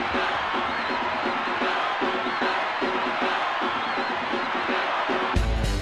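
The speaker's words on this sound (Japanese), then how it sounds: "声援鳴り止まず" A large crowd in the soccer video game Winning Eleven '97 roars and cheers continuously after a goal, a dense wall of voices that swells briefly near the end.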